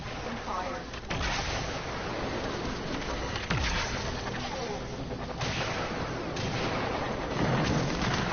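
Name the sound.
gunfire in Warframe video game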